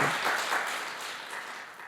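Brief, warm burst of congregation clapping during a Sunday church service at Jeju International Full Gospel Church, dense and steady, slowly tapering off.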